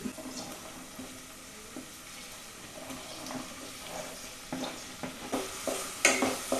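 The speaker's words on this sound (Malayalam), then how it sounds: "അപ്പൊ ഞാനിത് ലോ ഫ്ലെയിമിലായിട്ടിരിക്കുന്നു അപ്പോൾ അതിൻ്റെ പച്ചമണമൊക്കെ ഒന്ന് മാറിക്കഴിഞ്ഞിട്ട് സവാള ഇടുക" Onions frying in a pan on a low flame with ginger, stirred now and then, a soft steady sizzle with scraping stirs that grow a little louder toward the end.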